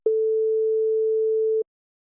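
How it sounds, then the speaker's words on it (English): A pure sine wave tone, a single steady hum held for about a second and a half at constant loudness, alone and then cut off into silence. "Sine wave."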